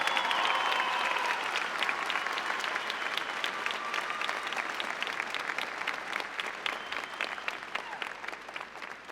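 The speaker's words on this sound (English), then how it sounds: "can we have a nice round of applause for our valedictorians and our salutatorians?" A large graduation audience in a high school ceremony applauds valedictorians and salutatorians, dense, sustained clapping that stays fairly even before thinning slightly toward the end.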